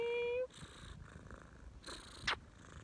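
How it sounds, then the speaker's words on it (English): A cat purrs softly close to the microphone, a low, faint rumble with rhythmic breaths, after a short tone at the start. "She's purring."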